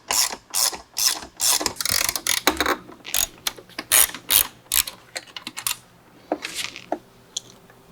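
A ratchet loosening screws on a Harley-Davidson Touring motorcycle during a stereo installation, rapid rhythmic clicking bursts repeating steadily, close and loud, with no talking.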